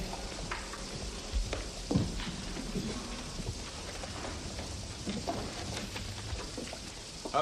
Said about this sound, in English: The rain's come through again.